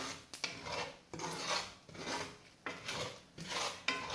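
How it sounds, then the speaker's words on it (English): Quinoa toasting in a pan while being stirred gives close, rhythmic scraping and rasping strokes, about six sweeps in a row, with faint crackles of popping grains between them. "it's popping, it's browning up, and it's releasing from the pan when I stir"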